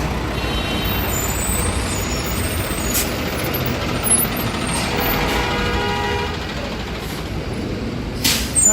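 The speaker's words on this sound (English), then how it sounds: "since all the big buses are coming" Big buses and trucks rumble through New York City rush hour traffic close by, with a steady loud roll of engines, hiss, and a few sharp air-brake releases.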